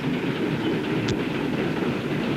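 A moving train in an old Western setting gives a steady, loud rumble of rail cars rolling along the track, with a brief sharp metallic tick partway through.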